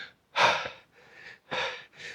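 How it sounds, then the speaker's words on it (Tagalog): Heavy panting after climbing steep forest steps, several loud close breaths in a quick uneven rhythm, each a harsh gasp or exhale with short pauses between. "Hingal na ako."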